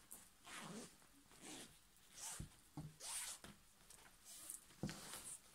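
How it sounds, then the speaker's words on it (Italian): A zipper pulled apart along upholstery fabric for a padded headboard, a series of soft, rasping zips and tugs repeating every second or so, quiet and close. "Ora divido la cerniera"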